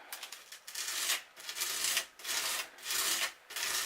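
A tool scrapes thick texture paste across a surface in repeated rasping strokes, each a gritty swell with short pauses between, close and fairly quiet, without talking.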